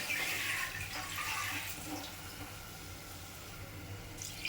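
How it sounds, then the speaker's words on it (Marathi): Water is poured into a pot of soaked basmati rice and lentils, a steady, fairly quiet splashing and trickling that is strongest at the start and then settles into a softer flow. "तर त्यामध्ये मी थोडं पाणी ॲड करते."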